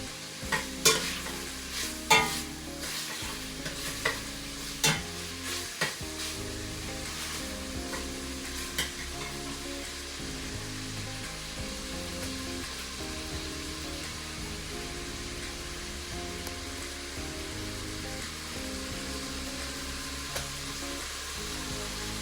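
Zuppa Toscana soup stirred in a pot: a few clattering scrapes of the spoon at first, then a steady soft simmering sizzle continuing alone, close by.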